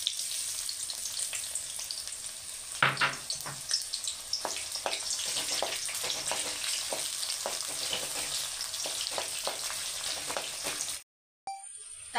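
Sliced onion sizzling in hot white oil in a kadai: continuous close frying hiss with scattered crackles and stirring scrapes, ending in a brief cut to silence, no voices.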